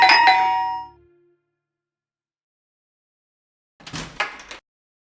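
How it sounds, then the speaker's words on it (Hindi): An electronic doorbell chimes loudly and close at the start, fades out, then rings again in a second short burst after a stretch of silence. "इतनी बार घंटी को बजाता कौन है?"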